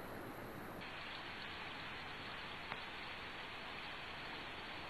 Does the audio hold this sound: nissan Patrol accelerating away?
no